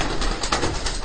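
Racing pigeons in a Manila loft give a brief soft cooing call, close and clear over a low background hum.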